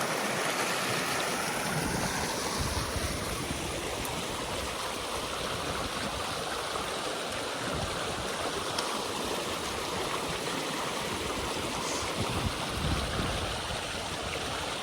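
Steady rushing water pours and gurgles continuously through a breached beaver dam, a broad constant wash of flowing water like a stream spilling through a gap.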